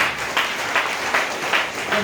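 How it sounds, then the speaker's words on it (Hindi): Applause from a crowd, a dense wash of clapping with slight swells in intensity, steady throughout. "जबरदस्त तालियां।"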